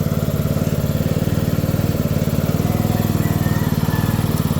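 A motorcycle engine with newly replaced studs runs steadily at idle, a close, even low throb that holds without pauses and carries no speech.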